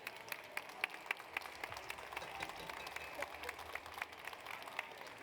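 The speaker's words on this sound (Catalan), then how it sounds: "un aplaudiment per elles," Audience applause at a showcooking class in a hospitality school kitchen, steady crowd clapping with sharper individual claps standing out, fairly faint and continuous throughout.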